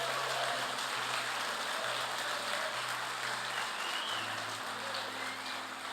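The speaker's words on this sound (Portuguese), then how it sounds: "Dê um aplauso ao Senhor." A church congregation claps in praise, a steady, moderately faint hiss of many hands blending into a continuous rain-like texture with a low hum running underneath.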